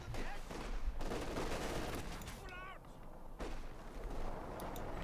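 Rapid bursts of light machine gun fire crackle during a Company of Heroes 2 battle, dense and continuous amid other battlefield gunfire, with a voice talking over parts of it.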